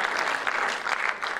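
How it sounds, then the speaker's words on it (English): A live comedy audience claps for Helen, a volunteer brought on stage, in a brief burst of warm, close applause with slight swells. "Give Helen a round of applause."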